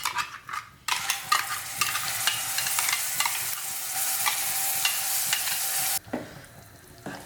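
Ground garlic chutney tipped into a hot frying pan, a sudden loud sizzle bursting in after a quiet start, crackling steadily for several seconds before cutting off abruptly.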